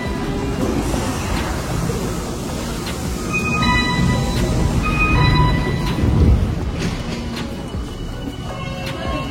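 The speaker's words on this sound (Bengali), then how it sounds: "তো এই ট্রেনটা আমাদের এখন উঠতে হবে।" A JR line commuter train in Tokyo rumbles steadily nearby, with a low rolling roar and faint clattering and squeals of the wheels running through the whole stretch, swelling a little toward the middle.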